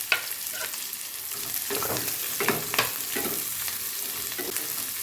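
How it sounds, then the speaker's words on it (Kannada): Onions, garlic and ginger fry in a pan while being stirred, with a dense, continuous sizzle broken by repeated scraping strokes of the spoon close by. "ಅದ್ರ ಜೊತೆಗೇನೆ ಉಳ್ಳಾಗಡ್ಡಿ ಅದ್ರ ಜೊತೆಗೇನೆ ಅಲ್ಲನೂ ಸೇರಿಸ್ಕೊಂಡು ಫ್ರೈ ಮಾಡಿ"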